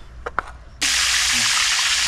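River water gushes and splashes steadily while fish are being cleaned at a riverbank, a loud continuous broadband rush starting abruptly after a couple of brief sounds and running to the end.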